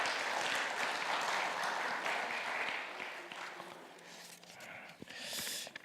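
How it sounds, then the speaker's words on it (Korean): Audience applause at a church faith concert in Oregon, a steady wash of clapping that fades a little midway and swells again near the end. "박수 한번 쳐주시고요."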